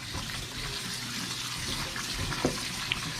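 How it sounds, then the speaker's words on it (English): Tap water runs steadily over cooked pasta in a colander for macaroni and cheese, a continuous close splashing hiss with a couple of small clinks near the end. "the only time to ever run water over your pasta after cooking it"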